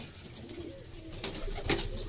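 Low, rolling coos from pigeons kept in a home breeding loft, steady and close, with a brief louder rustle or flutter near the end.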